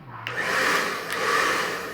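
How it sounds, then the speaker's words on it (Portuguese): Repaired hair dryer switched on and running, a loud close steady whooshing blow with a slight waver partway through. "Secador."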